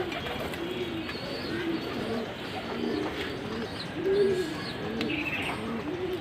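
A Shirazi pigeon coos close by in repeated soft, rolling phrases, joined by a few faint chirps from other birds in the loft, with no talk.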